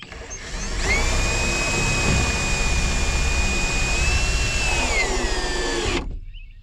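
A power drill drives a long screw through the roof of a 1985 Volkswagen Vanagon while a solar panel is mounted, its high motor whine running loud and steady for about five seconds before stopping abruptly.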